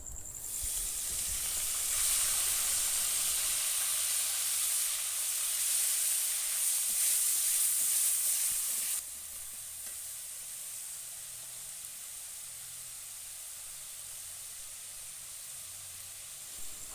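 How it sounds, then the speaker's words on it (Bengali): Onion paste hits hot oil left from frying boal fish and erupts into a loud, dense sizzle for about nine seconds, then settles into a quieter, steady frying hiss, with no voices. "মাছ ভাজা তেলের মধ্যে দিয়ে দিচ্ছি পেঁয়াজ বাটা"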